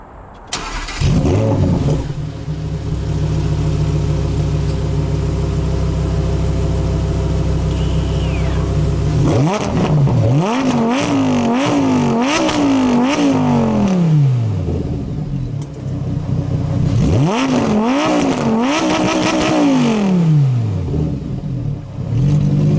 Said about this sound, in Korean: 우라칸 퍼포먼테는 슈퍼카다운 배기 시스템을 갖추고 있는데요